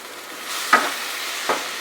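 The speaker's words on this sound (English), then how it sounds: "Fry it for 10 to 15 seconds." Chicken masala gravy with chili sizzles in a pan, a loud close hiss swelling as it fries, broken by two stirring scrapes about a second apart.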